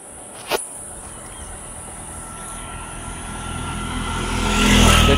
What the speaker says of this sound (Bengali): দেখতে পাচ্ছেন কত সুন্দরভাবে গাড়ি ঘোড়া